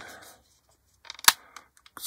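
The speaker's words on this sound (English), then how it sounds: "It's clicking together." Plastic parts of a 1/48 scale HK Models B-25J bomber kit snap together during a test fit, giving a few small dry clicks and one sharp snap, close up, with no talking.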